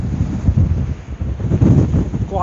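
Strong wind buffets the microphone in loud, low rumbling gusts on Scafell Pike, rising and falling without a break.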